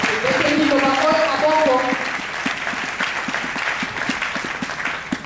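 A church congregation claps and cheers together in a dense burst, while a voice over the hall speaks above the applause, which settles into a steadier rhythmic clapping that carries on to the end.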